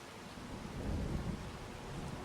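A thunderstorm with rain in the video game Farming Simulator 25, heard as a soft, steady rush of rainfall with a low rumble of thunder swelling mid-way, all fairly quiet and free of speech.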